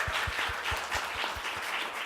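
An audience applauds to thank a group of youth speakers at a volunteer service summit, a dense, steady wash of many hands clapping with no voices, sustained at an even level for two seconds.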